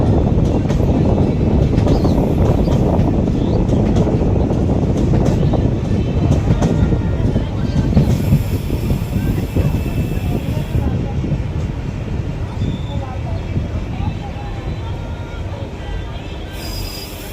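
A train pulls into Lalbagh Court Road station in Murshidabad, West Bengal, with a steady loud rumble of wheels and carriages that eases slightly as it slows, and voices murmur faintly underneath.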